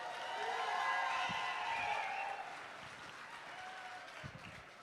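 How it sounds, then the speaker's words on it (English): Wedding guests applauding during a church wedding ceremony, a broad, sustained wash of clapping that swells early and gradually thins toward the end, fairly distant and soft. "Big round of applause to Goliath."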